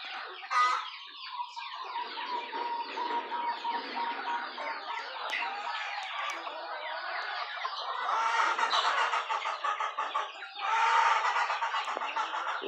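A flock of chickens clucks and chatters continuously in a henhouse at a rural farm, a dense, busy layer of overlapping calls at moderate loudness with no talk.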